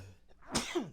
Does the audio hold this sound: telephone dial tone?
no